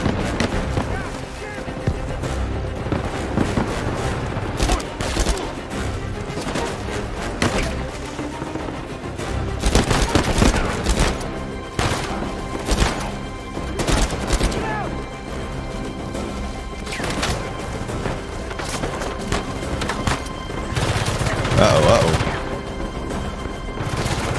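Rapid bursts of pistol fire and heavy army gunfire crack through a chaotic Uncharted 4 firefight, with loud repeated shots and impacts clustering densely over the whole stretch, while a voice talks over the action.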